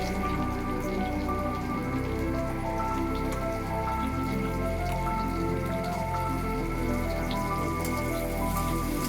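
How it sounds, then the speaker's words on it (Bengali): Onions are tossed into reused hot oil in a home kitchen and fry with a dense, steady, rain-like sizzle of crackles that holds loud and even throughout, with no speech heard. "এটা তুলে রেখেছিলাম, আমি ওই তেলটাই দিয়ে দেব। পেঁয়াজটা দিয়ে দিচ্ছি।"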